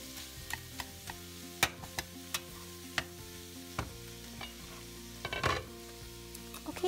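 Vegetables sizzle softly in a pan over medium heat while a utensil stirs them, giving irregular clicks and scrapes against the pan, with a louder clatter near the end.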